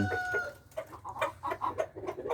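A broody hen gives a run of short, rhythmic clucks close by, about a dozen soft pulses in quick succession over a low background hum.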